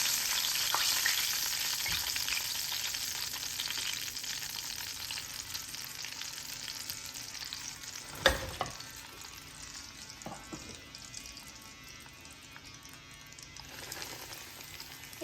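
KFC-style chicken pieces frying in hot oil, a steady close sizzle and crackle throughout, with one sharp pop partway through and a few smaller spatters.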